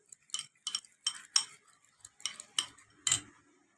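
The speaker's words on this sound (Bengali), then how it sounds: "এবার দইটাকে আমি একটুখানি বিট করে নিচ্ছি" Yogurt is beaten in a bowl for Afghani chicken, giving a quick series of about eight crisp clinking strokes of utensil against bowl, close and steady with no talk.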